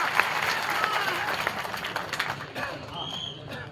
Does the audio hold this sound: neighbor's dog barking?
no